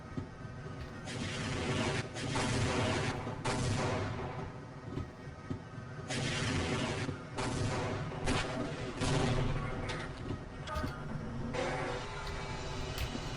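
Rocket explosions and blasts in the game Half-Life, loud repeated booms and crackling bursts in irregular clusters filling the scene with dense battle noise.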